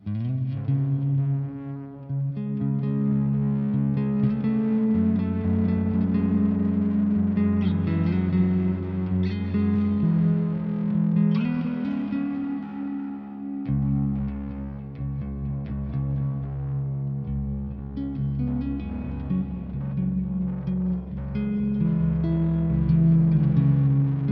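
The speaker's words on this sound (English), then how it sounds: "makes it sound like this, with only the reverb and the tape echo on" An electric guitar plays slow, sustained chords and notes drenched in reverb and tape echo, loud and washy with trailing repeats, alone without talk.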